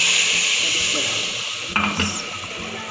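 Tadka tempering of spices in hot oil for lauki gosht curry gives a constant airy hiss and sizzle, close by, with a sudden louder splutter and a few clinks of utensils toward the end.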